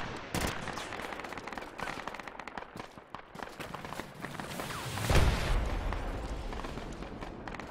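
Rapid gunfire and distant explosions crackle through a dense battle soundscape in the military shooter Project Reality, with a sharper burst of shots midway and a heavier boom near the end.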